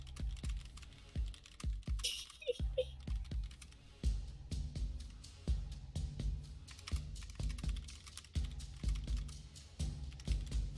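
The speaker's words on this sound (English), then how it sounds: "I'm curious, but I can still hear you typing." Someone types on a computer keyboard in quick irregular bursts of close key clicks, with brief pauses, during an online tabletop role-playing session.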